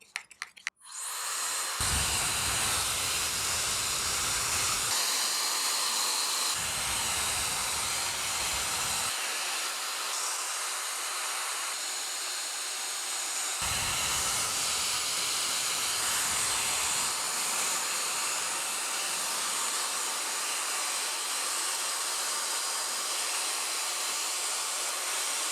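A Shark FlexStyle air styling and drying system blows a loud, steady airy hiss while drying long hair, running continuously after a short start, with no talking.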